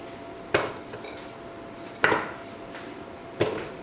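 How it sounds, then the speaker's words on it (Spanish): Frozen meatballs are dropped into a cooking pot, giving three separate hard clunks against the metal a second or so apart, close and fairly quiet in a still room. "Vamos a poner aquí en este caldero las albóndigas"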